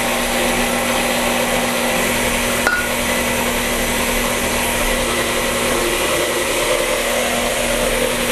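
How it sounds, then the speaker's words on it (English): Rhubarb bread batter being mixed with oil, likely by an electric mixer, a steady loud whirring drone with a faint clink partway through and no speech. "So I'm just going to start mixing as we go."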